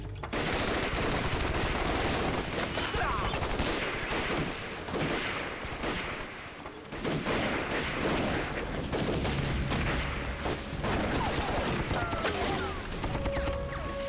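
Dense, sustained gunfire volleys and rapid machine-gun bursts fill an anti-Japanese war action film battle scene, loud and continuous with a brief lull midway, with shouted voices mixed into the din.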